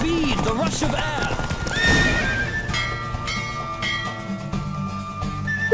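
Horse hooves clatter in a rapid galloping rhythm while a horse whinnies during a horse race in The Witcher 3: Wild Hunt, set against background music and a voice speaking over it.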